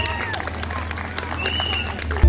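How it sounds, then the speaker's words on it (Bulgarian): At a village festival in Debnevo, near Troyan, an audience claps for children, a thin patter of applause mixed with crowd murmur and scattered voices over a steady low hum, in a short burst. "най-големите аплодисменти за най-прекрасните деца на село Дебнево."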